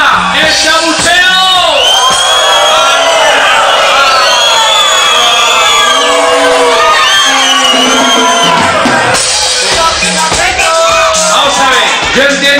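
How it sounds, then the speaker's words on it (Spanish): A live concert audience at an orchestra show boos loudly, with many voices bellowing and whooping together in a dense, sustained crowd roar that lasts throughout. "a ver ese abucheo preparado"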